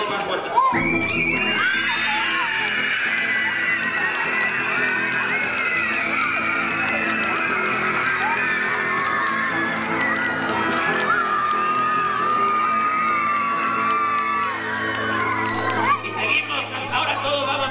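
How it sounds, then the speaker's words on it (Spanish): Group of children shouting, cheering and clapping during a sing-along storytelling session, a loud continuous mix of excited voices and whoops with clapping underneath. "gritan y aplauden más fuerte"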